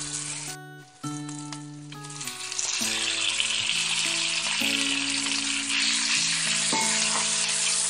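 Onion and garlic hitting a hot wok with sauce for a tofu dish, a quiet start bursting into a loud, sustained sizzle with scraping stirs over it, no talking.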